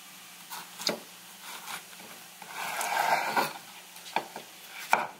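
A knife chops a peeled, quartered cucumber into smaller pieces on a board, giving a few sparse, quiet cuts with short pauses between them and no talking.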